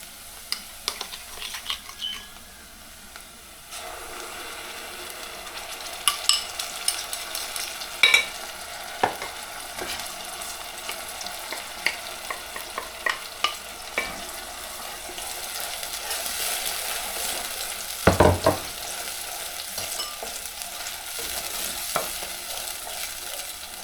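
Red tomato paste frying with cooked onions in a pan over a low gas flame gives a steady close sizzle, broken by occasional scrapes and clicks of stirring, with no voices.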